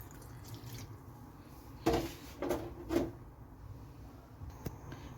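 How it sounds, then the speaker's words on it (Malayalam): Half a cup of water poured into mussels masala in a pan, heard as a short splashing pour in two or three quick surges within an otherwise quiet kitchen, with no talking. "ഒരു അര കപ്പ് വെള്ളം കൂടി ഒഴിച്ചു കൊടുക്കാം"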